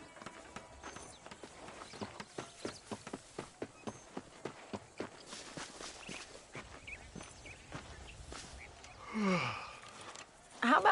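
A horse's hooves clip-clop at a steady walking rhythm in Red Dead Redemption, distinct evenly spaced hoofbeats that fade toward the end, followed by a brief rustle and a faint sigh-like sound.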